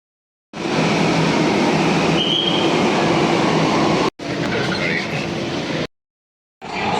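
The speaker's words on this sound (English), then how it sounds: "We are now at the metro." A metro train at Saket metro station roars steadily up close in sustained stretches, cut off by sudden silences, with a faint squeal briefly rising above the rumble.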